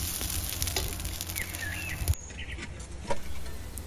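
Cowpea beans (chouli) dry-roasting in a pan give a soft, faint sizzle and patter, broken by a couple of sharp clicks from stirring.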